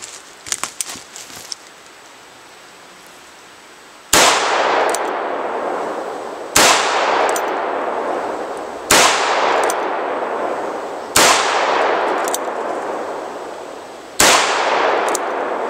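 A Ruger Vaquero .45 Long Colt revolver with a bird's-head grip fires five loud, sharp shots at targets, spaced about two to three seconds apart, each blast trailing off in a long ringing decay, after some faint handling clicks.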